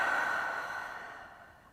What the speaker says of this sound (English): Audible exhale out.